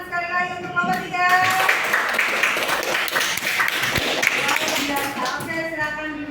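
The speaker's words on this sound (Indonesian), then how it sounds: "tepuk tangan sekali lagi untuk kelompok 3" A classroom group of students claps for a presenting team, the dense, steady applause swelling quickly after a moment of talk and fading out as voices return at the end.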